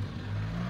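A 2001 Honda Civic LX engine with a suspected valve problem and a lit check-engine light, revving in a steady low drone, close and continuous, with no voices.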